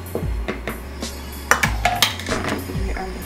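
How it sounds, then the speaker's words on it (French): A utensil beating cornbread muffin batter in a bowl, with close, loud rhythmic clinks and knocks against the bowl's side, repeated strokes in quick succession and no talk. "Et je vais tout simplement battre."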